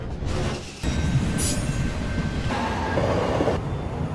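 A New York City subway train running underground, a loud steady rumble of wheels on rails with rattling carriages and a brief high metallic squeal, without speech.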